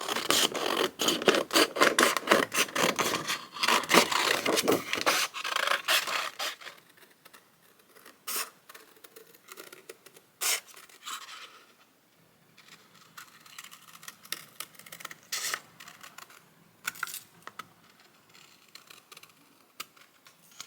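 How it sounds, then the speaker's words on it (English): Scissors snip out fabric pieces for covering a craft egg, with a dense run of quick, close cuts at first, then sparser scattered snips and light rustling, no speech. "So we're going to cut those out."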